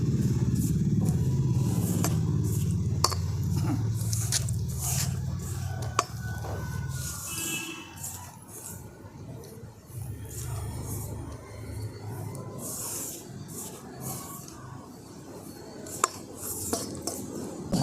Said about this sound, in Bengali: প্রথমে শুকনো উপকরণগুলো আমি খুব ভালো করে মিশিয়ে নেব।